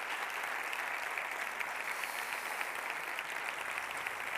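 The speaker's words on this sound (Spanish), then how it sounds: "necesitamos un fortísimo aplauso para todas y todos los que hacéis posible este evento." Sustained applause from a sizable crowd at a professional conference on youth and mental health, dense and even throughout, with no voices rising above the clapping.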